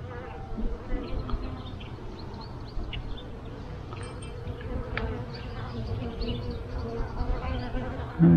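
Honey bees buzz steadily around an open hive during an inspection, a dense close drone that continues throughout with only a faint thump near the end.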